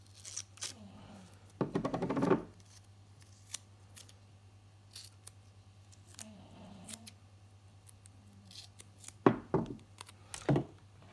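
Scissors cutting paper close up, with a run of rapid snips early on, quiet pauses and softer rustles, then a few more sharp cuts near the end.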